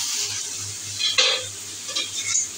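Red amaranth greens and green chillies being stirred in a pan, with a soft steady sizzle and a few scraping strokes of a spoon against the metal, no talk.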